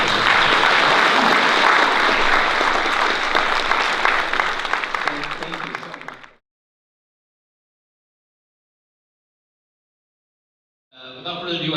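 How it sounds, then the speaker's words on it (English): An audience at a Films of Remembrance screening event in San Jose claps loudly and steadily for about six seconds before fading out. After a silence, the clapping starts again at the end. "Can we please give a round of applause?"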